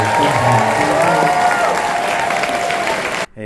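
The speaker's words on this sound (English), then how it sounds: "how about another riotous round of applause?" Loud, enthusiastic applause from a packed film festival audience after a world premiere screening, with crowd noise and some voices mixed in, sustained and full before cutting off abruptly near the end.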